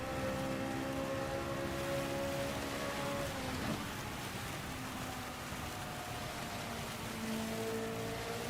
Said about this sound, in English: Watch out for that extra rain.